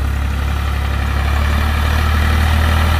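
Ford tractor with a 3.3-litre three-cylinder, 63 hp engine idling close by, a steady loud low rumble with an even throb throughout.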